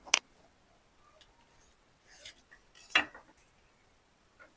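Scissors snip fabric for a blazer dress pocket, a few sharp scattered metallic clicks and brief cutting sounds separated by quiet pauses, close and fairly faint, with no speech.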